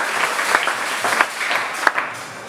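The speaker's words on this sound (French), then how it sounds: "Acclamez pour le roi." A church congregation applauds for the king during a sermon, producing a steady patter of clapping from many hands with a few sharper claps standing out.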